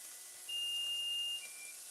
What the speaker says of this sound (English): our 20 minutes timer is up